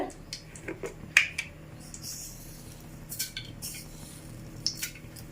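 Mustard seeds spluttering in hot oil in a kadai, heard as scattered sharp pops and crackles at an uneven rhythm over a quiet background, close and moderately loud.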